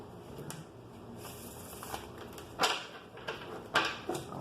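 Tarot cards are handled and laid out, giving soft close-up shuffling, sliding and papery slaps, several sharper card snaps near the end, all quiet and without talk.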